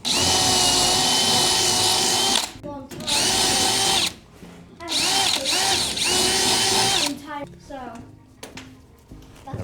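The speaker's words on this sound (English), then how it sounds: "we were just drilling the rivet out" A power drill whines loudly in three long bursts with short pauses between while drilling out a rivet on an aluminum Lowe 1448 jon boat, then winds down into quieter clicking and handling sounds.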